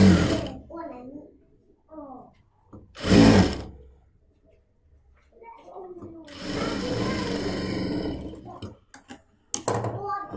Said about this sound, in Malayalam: ആദ്യമേ ഒരു അര ഇഞ്ചിൽ നമുക്ക് താഴത്തേക്ക് സ്റ്റിച്ച് ചെയ്യാം